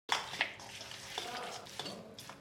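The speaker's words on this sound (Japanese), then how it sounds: "圧力鍋で玉ねぎと青唐辛子を炒め、ここにすりおろしのニンニク生姜も追加します。" Quiet sizzling of onions and green chilies frying in a pressure cooker, with a few clinks and scrapes of a utensil stirring the food.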